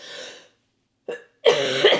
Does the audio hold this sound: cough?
yes